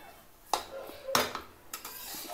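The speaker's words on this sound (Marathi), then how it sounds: "कमी वाचेवर भाजायचं" A spoon scrapes and clinks against a pan as semolina roasts in ghee over low heat for rava laddoos, with a few soft, close knocks over a faint sizzle.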